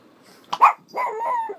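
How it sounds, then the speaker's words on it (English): A single dog gives a short close bark followed by a drawn-out growling howl, with quiet surroundings. "What you barking at?"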